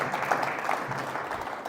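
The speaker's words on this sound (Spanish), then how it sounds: "pido que recibamos con un fuerte aplauso a Francisco Manuel Sánchez Jáuregui" Applause from a conference audience welcomes a speaker: a short, moderate patter of clapping heard at some distance, with faint murmuring underneath.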